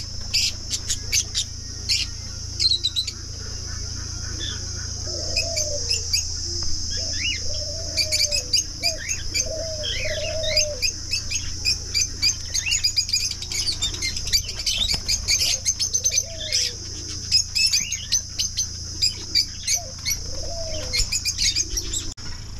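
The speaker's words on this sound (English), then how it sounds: "Look at these birds." Birds at a petting farm in Ras Al Khaimah chirp, tweet and squawk continuously, with busy overlapping calls, some flapping wings and pigeon-like coos, all under a steady low background hum.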